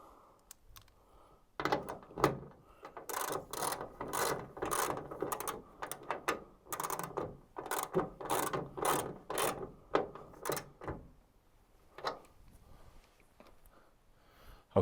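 A nylock nut on a Ford Focus bonnet gas strut fitting is run down with a ratchet, giving fairly quiet bursts of rapid clicking in an irregular rhythm with short pauses between them, close by and with no talking.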